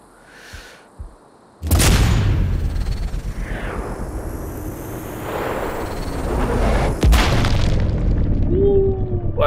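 Sniper rifle shots in Sniper Ghost Warrior Contracts 2, two sharp, loud cracks several seconds apart, each followed by a long booming rumble and echo that fills the gap, with quieter ambience before the first.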